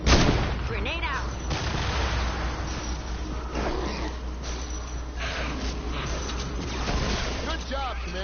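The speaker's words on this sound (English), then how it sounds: "Grenade out." A grenade blast and bursts of gunfire in a video game battle rumble and crack, with a heavy low boom early on and continuing rough firing beneath occasional speech.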